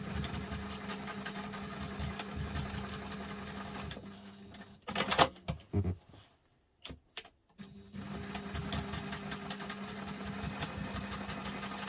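A sewing machine running long continuous stitching runs on a messenger bag, a steady close mechanical whir that pauses briefly for a few clicks and handling sounds before resuming.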